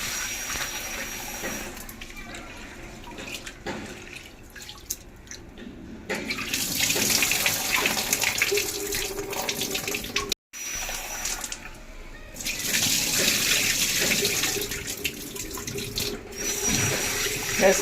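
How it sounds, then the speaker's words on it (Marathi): Rice being rinsed under running water for dhokla batter, with a faint tap stream and splashing that grows louder in two longer bursts separated by a brief pause. "आता मी हे तांदूळ स्वच्छ 2-3 पाण्याने धुवून ते भरपूर पाणी घालून हे भिजत ठेवणार आहे"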